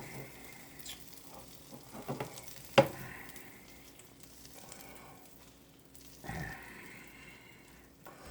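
Butter melts and sizzles in a pan before searing scallops, a low crackling fry punctuated by a sharp knock and a few stirring scrapes, fairly quiet throughout.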